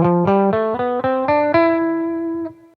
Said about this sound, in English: Phrygian has a slightly darker tone than most modes